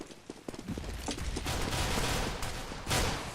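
Grenades and gunfire in a CS:GO competitive match, a rapid scatter of sharp cracking shots followed by a sustained loud rumbling wash of explosions and firing, with a burst near the end.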